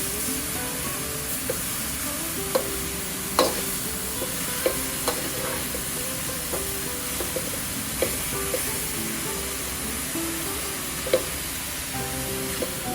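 Grated carrots roasting in ghee for gajar halwa, with a steady pan sizzle and hiss throughout and the regular light scrape and clink of a spoon stirring, close and continuous.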